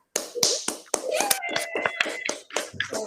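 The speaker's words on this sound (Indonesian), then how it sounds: "Beri aplaus untuk kelompok 3." A classroom of students gives a brief, uneven round of hand claps for a winning discussion group, about ten sharp claps scattered over a few seconds, with children's voices chattering over them.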